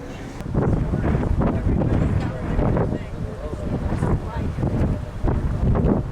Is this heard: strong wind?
yes